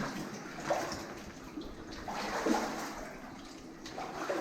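Water ripples and laps softly in a flooded underground colliery, faint gentle trickles and splashes echoing in the damp, quiet space, with no voices.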